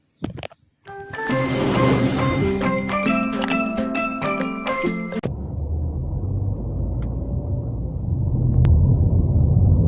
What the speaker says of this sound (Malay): jom kita start kereta kita pi